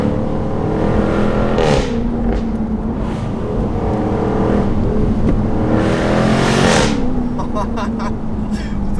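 Jaguar F-Type R P575 convertible with its V8 engine accelerating hard, engine note climbing through gear changes in a loud sustained roar, with a person talking excitedly over it.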